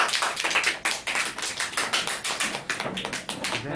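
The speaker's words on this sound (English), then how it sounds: "तालियां बजा दो भाई जोरदार." Loud, sustained clapping from a crowd at a question-and-answer session, dense rapid claps running steadily for nearly four seconds with no talking over them.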